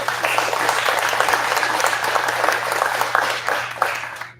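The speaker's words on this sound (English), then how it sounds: "So let's give Serge a round of applause." An audience at a jazz concert and masterclass gives a sustained round of applause with dense, even clapping that tapers off at the end, with a low steady hum underneath.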